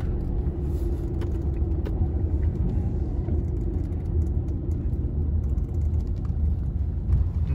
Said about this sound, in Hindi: मैं आपकी अपनी गाड़ी को आप लोगों को दिखाने के लिए लेके जा रहा हूँ इतने डीप पानी में